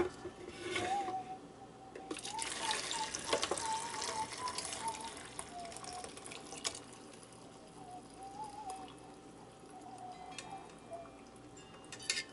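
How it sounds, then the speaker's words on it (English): Water pours steadily into a pot while lentil soup and jambalaya are cooked, a continuous close splashing stream that lasts throughout with light clinks in between. "we're going to pour that water into here and then we're going to measure it"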